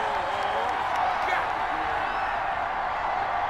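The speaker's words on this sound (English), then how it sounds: "Well, the crowd doesn't like that." A stadium crowd in the NFL 21 video game, during a simulated New York Jets vs Seattle Seahawks match, reacts to a penalty flag with a steady, loud, unbroken wash of crowd noise that holds for the whole stretch.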